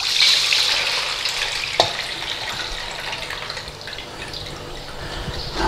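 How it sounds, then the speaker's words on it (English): Cooked, soaked peas for chip-shop mushy peas are tipped into a strainer, giving a steady close rush and trickle of draining water with a single sharp clunk partway through. "we've got to drain these peas. So let's drain the peas."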